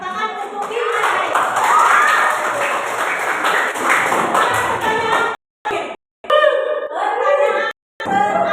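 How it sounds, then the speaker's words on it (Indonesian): Schoolchildren in a seventh-grade classroom clapping for a classmate; a burst of lively, close clapping mixed with children's chatter and voices, breaking into short gaps and renewed noisy bursts near the end. "ayo tepuk tangan untuk Kimai."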